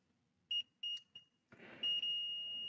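Multimeter continuity tester beeping while checking a fuse during repair of a Mechanic preheater: several short sharp beeps, then a longer sustained tone, close and clear over faint background noise.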